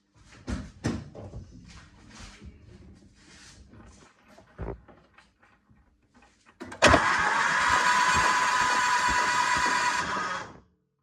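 A neglected Volvo 340 DL: a few clunks and knocks of handling first, then the engine cranks or catches with a loud, steady churning that runs for about four seconds before cutting off.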